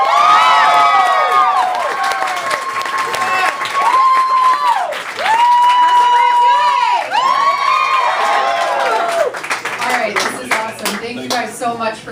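A crowd cheers, whoops and applauds for a state senate candidate at a campaign kickoff event, loud sustained shouting and clapping with high excited voices rising and falling throughout.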